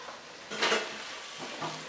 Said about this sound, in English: Always cook the onion till it's soft and changes the color a bit.